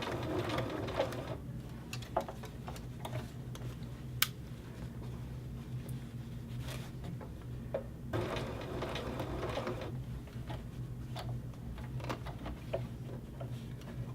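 A sewing machine hums steadily with a fast ticking rhythm as it stitches a princess seam in fabric, continuous and close with small mechanical clicks and no talking.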